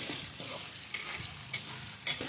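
Potato pieces frying in hot oil for Indonesian sambal goreng kentang give a steady close sizzle and crackle, with a few sharper pops and stirring clinks over the bubbling.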